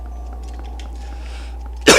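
Near-silent room tone with faint hum, then one abrupt, close cough near the end.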